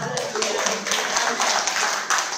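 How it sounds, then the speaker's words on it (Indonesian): An audience in a hall gives modest, scattered applause, individual claps audible in a loose rhythm, fairly close and moderately loud for a couple of seconds. "Agak dingin tepuk tangannya Bu"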